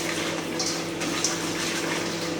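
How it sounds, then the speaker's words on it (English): Beans are washed by hand in a bowl of water, with steady close sloshing and swishing and a few small splashes. No one speaks over it. "So let's wash the beans now."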